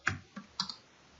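A few sharp keyboard keystrokes, about four taps spaced unevenly over a second, close and fairly quiet while a network routing command is entered.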